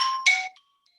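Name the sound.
phone ringtone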